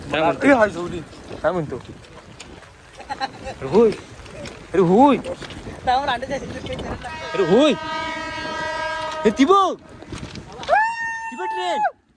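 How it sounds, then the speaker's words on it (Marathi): A passing train in Mumbai during heavy rain and flooding sounds its horn in long, sustained blasts, partly under nearby chatter, with a second horn call near the end. "अरे ती पण ट्रेन जाते"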